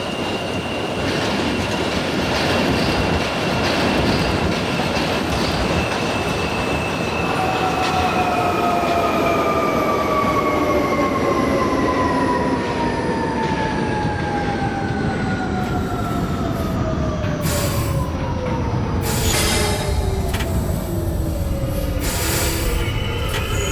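An R32 subway train runs on track in the OpenBVE simulator game, a loud continuous roar of wheels and motors with gliding whine tones falling in pitch and rhythmic rail clatter near the end.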